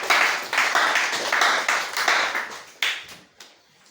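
A church congregation applauding during a French-language sermon, dense, loud clapping that gradually thins and fades out over a few seconds.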